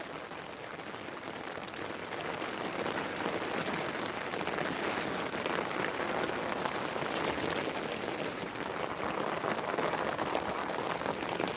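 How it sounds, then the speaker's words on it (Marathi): Steady rain pours outdoors in the Konkan region, a constant even hiss of drops on surfaces that stays moderately loud throughout, with no talking. "तुमच्यासाठी मी पावसात उभी राहिली आहे."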